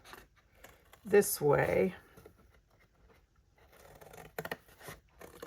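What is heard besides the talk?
cutting chipboard along score lines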